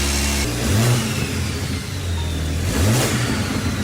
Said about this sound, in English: Dang, but you can hear that turbo.